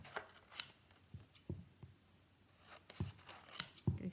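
Scissors snip in a few scattered rough cuts through patterned card or paper during a papercraft session, sharp crisp clips spaced irregularly and close by, alone with no talk.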